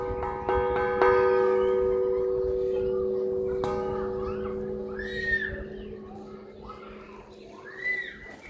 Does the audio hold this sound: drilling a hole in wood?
no